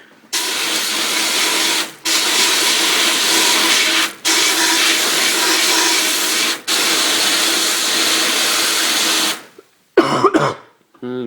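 A sandblaster blasts at a steady 70 psi against a Honda TRX400EX engine, a loud close hiss in four long bursts separated by brief pauses, followed by a short sputter as the flow cuts off.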